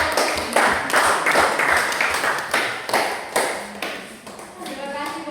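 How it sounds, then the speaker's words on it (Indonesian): Students in a junior high school social studies class clapping and tapping in applause, a series of sharp, loud hits with voices talking over them. "kita berikan aplaus kepada"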